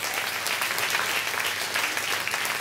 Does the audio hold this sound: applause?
yes